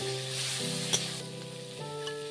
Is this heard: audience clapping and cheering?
no